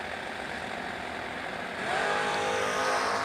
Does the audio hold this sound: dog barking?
no